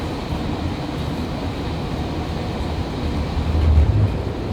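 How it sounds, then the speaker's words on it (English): A GO Transit train locomotive accelerates from a standstill, heard as a steady low rumble and rolling drone from inside the train, building slightly toward the end. "You can barely hear the locomotive starting to accelerate and pick up speed."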